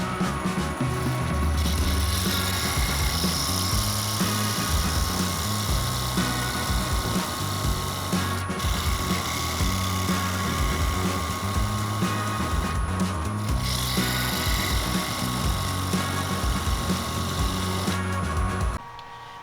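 A lathe runs continuously at a steady whirring hum with a faint high whine, constant and close for the whole stretch, cutting off abruptly near the end.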